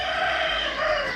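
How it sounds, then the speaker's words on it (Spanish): A rooster crows from a terrace in Laos near the Mekong River, one sustained loud call lasting about a second. "con gallos incluidos"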